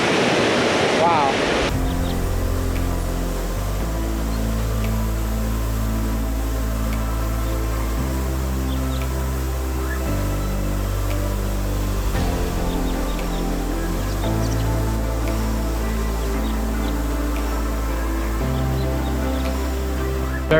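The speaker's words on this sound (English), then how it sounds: "Very, very cool waterfall." A waterfall in the Mindo cloud forest of Ecuador roars steadily, a dense, continuous rush of falling water heard up close and loud, with a brief sharper burst of noise at the start.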